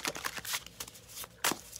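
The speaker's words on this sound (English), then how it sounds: "I just want to make sure that it shuffles in good." A deck of anime-themed tarot cards being shuffled, with several quick papery riffling bursts and soft slaps, close and fairly quiet, with no talking.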